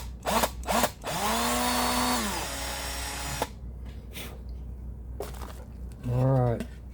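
A power drill whirs for about two seconds while boring holes into a cigar box guitar body, steady and fairly close, followed by a quieter stretch and a short second burst of the motor, with someone talking briefly.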